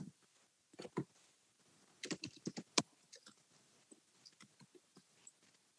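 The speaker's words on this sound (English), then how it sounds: "So I'm going to type that in right here." Keys clatter on a computer keyboard in quick, irregular bursts of clicks as a website address is typed, fairly quiet and close, with short pauses between groups of strokes.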